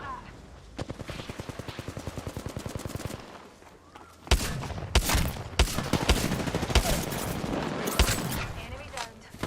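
Rapid automatic gunfire in the video game Apex Legends, a long rattling burst followed by a pause, then heavier scattered shots and loud bursts continuing close up.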